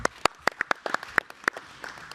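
Scattered hand claps from a small audience at a conference workshop session, a dozen or so sharp, uneven claps spread over two seconds and fading toward the end.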